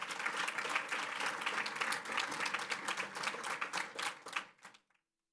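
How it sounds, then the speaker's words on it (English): Audience applause for award winners at a school district Teacher of the Year ceremony, steady dense clapping for about five seconds that fades out at the end. "Give them a round of applause."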